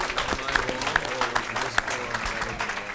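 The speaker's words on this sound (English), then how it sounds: "Let's give them a big round of applause." An audience at a South Miami city commission meeting applauds the candidates, steady moderate clapping filling the room with voices talking beneath it.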